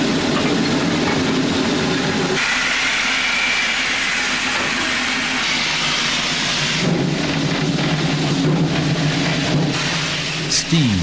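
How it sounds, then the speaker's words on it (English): The Hill City 1880 vintage steam locomotive in the Black Hills runs steadily with a loud, continuous rushing roar and hiss of steam and rolling cars, the noise shifting in texture partway through. "Steam pours from the engine as the old locomotive begins its 2-hour round trip between Hill City and Keystone."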